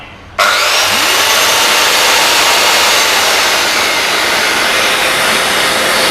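A Bosch GKS130 7-inch circular saw and a dust vacuum switch on together, a sudden loud start settling into a steady, continuous whine and rushing roar up close, with no talk.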